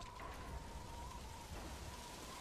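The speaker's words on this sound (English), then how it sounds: "Now it's started to rain." Rain begins to fall in the game Metal Gear Solid 5: The Phantom Pain as part of its dynamic weather, a steady dense hiss of raindrops on surfaces, constant and fairly soft with no voices.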